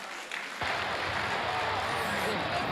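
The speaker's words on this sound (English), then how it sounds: "Let's welcome him with an applause, please." Applause at a convocation lecture, a dense, even patter of many hands clapping that starts abruptly and carries on steadily, with a faint crowd murmur beneath.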